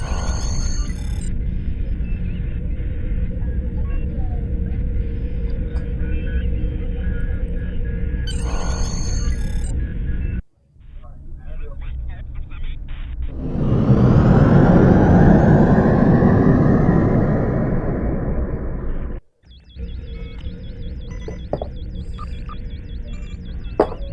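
Starship thrusters in the Star Trek Online game swell into a loud, sustained rumbling roar with a rising whoosh, sitting between stretches of steady electronic bridge hum and beeping tones.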